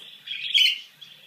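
A pet bird sings a short run of bright chirping notes, close and clear, swelling in the middle and then tapering into softer trailing tweets.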